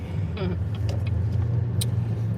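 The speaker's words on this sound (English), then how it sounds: "zooming through traffic" A car drives through road traffic, giving a steady, close engine and tyre drone with a few faint clicks and no talking.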